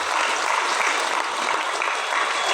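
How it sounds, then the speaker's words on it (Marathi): Crowd at a religious initiation ceremony claps, a dense continuous burst of applause filling the space, fairly loud and close, with no voices over it. "आपण त्याचं टाळ्या वाजून स्वागतही करूया"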